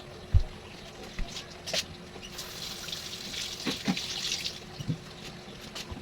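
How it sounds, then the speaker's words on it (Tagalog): Tomatoes rinsed under running tap water in a kitchen sink, a faint steady splash and trickle with a few soft knocks and handling sounds. "So mag-ano na tayo ng kamatis. Hugasan muna natin siya."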